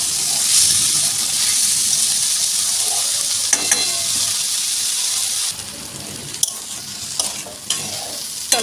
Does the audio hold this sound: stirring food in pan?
yes